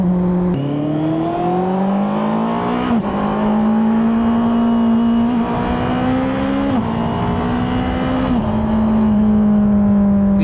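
A motorcycle engine runs steadily and loudly, its pitch climbing, then dropping briefly at several gear changes made without cutting the engine. The transmission has covered about 6000 km.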